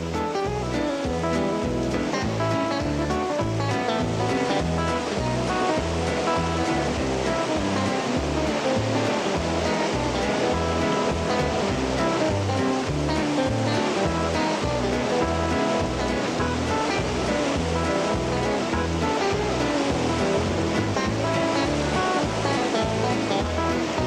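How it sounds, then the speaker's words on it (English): Whitewater rapids on the outflow of Moline Lake during a rafting trip in the Rockies, a loud, continuous roar of rushing water that stays steady throughout with no voices. "The rafts set out from Moline Lake and enter the outflow as they start this wild river journey"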